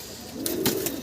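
Pigeons at a pigeon farm, a short low cooing call close by over a steady background hiss.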